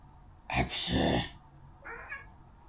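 A cat gives two loud, drawn-out meows close by, then a shorter, quieter one after a brief pause, with no talking over them.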